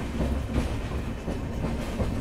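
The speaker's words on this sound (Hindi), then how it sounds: "मीटर गेज के ज़माने के पेट्रोलियम टैंकर्स, खूबसूरत से रेक और ये लोकोमोटिव्स" A metre gauge train hauling petroleum tanker wagons passes close by on a 1936 rail route in Rajasthan, giving a steady, loud rumble with faint rhythmic clatter throughout and no talk.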